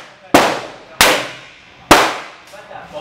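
Three loud, close gunshots from a .45 Colt firearm loaded with powder-coated Lee 452-255 round-nose flat-point cast bullets crack out at uneven intervals, each with a ringing decay, followed by a fainter fourth report.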